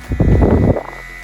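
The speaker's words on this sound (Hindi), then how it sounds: "लाइट के साथ साथ इसमें पंखा भी रहेगा, जिनकी स्पीड आप सुनिए" A small battery-style electric fan with a built-in light whirs up close, a broad steady rushing hum that swells for most of a second and then drops away quickly.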